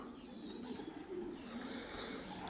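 Low, soft cooing of racing pigeons settled inside the loft after a race return, a continuous murmur of several birds under quiet outdoor ambience.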